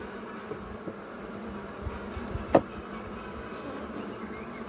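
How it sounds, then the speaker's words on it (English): Honey bees hum faintly around hive frames during frame cycling, a soft continuous buzz with a few quick, louder passes close by. "these bees, they're always getting in the way"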